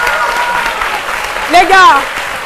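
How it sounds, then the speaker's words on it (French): Studio audience on a live Ivorian midday radio and TV show applauding a band after their set, a steady wash of clapping under a background hum, with brief sung or cheering voices swelling near the end. "Le public vous a applaudi"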